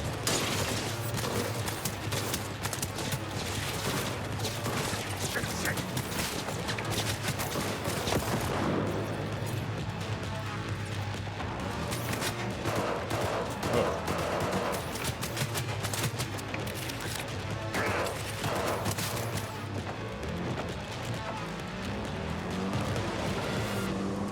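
Smart pistol gunfire in Cyberpunk 2077: Phantom Liberty, fired from a moving car, with loud, dense bursts of shots over steady engine and road noise across the whole stretch.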